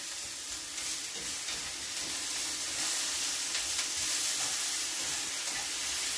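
Leek, onion and mushrooms sizzle and fry steadily in a hot pan, a close, continuous crackling hiss with no talk over it.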